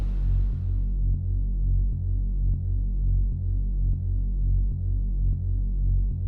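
Drum and bass synth bass with repeating modulation and sidechain pumping, a loud low throbbing tone pulsing in a steady rhythm throughout, with a brief bright burst at the start.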